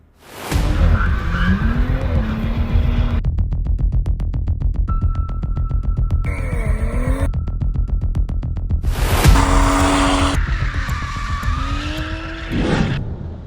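A BMW M235i engine revving hard close by at an arena, with long screeching tire squeals as it drifts and skids in continuous loud runs.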